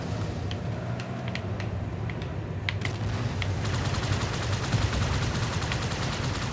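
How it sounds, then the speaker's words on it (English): Gunfire in the Halo 2 video game, Quarantine Zone level, with dense rapid automatic bursts and scattered sharp shots running continuously under a steady game soundscape, growing busier in the second half. "I legit can't tell if they're shooting at us or what."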